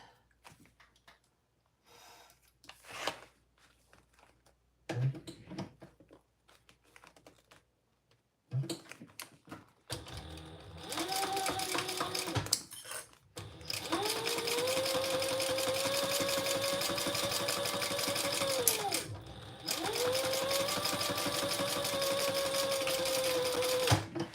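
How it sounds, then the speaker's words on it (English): Close sewing machine stitching a quarter-inch seam on a small zippered pouch, starting after scattered clicks and handling noises, then a long steady whir with a brief pause before resuming. "let's stitch it up. 1/4 inch seam allowance"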